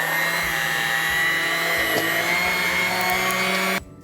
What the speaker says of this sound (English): First we're going to put the cream cheese and butter in. Now we're gonna mix it with the hand mixer.